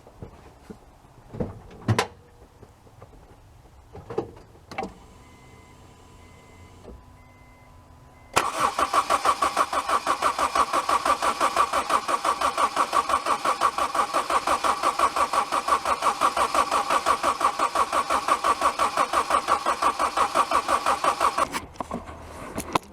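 A 2001 Honda CR-V with no spark cranks without starting: a few clunks and clicks, then a long steady rhythmic starter churn for about thirteen seconds that never catches, loud and close, ending abruptly.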